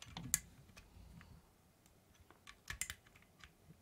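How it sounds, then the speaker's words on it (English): Keycaps are pried off a mechanical keyboard before a set of Matrix cotton candy pudding keycaps goes on. The result is faint, sparse plastic clicks and ticks spaced irregularly, with a small cluster near the end, in a quiet room. "This is me going to be taking off the keycaps"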